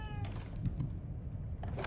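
A cat meows in the video game The Evil Within 2, a couple of short mews close by over the game's low ambient rumble.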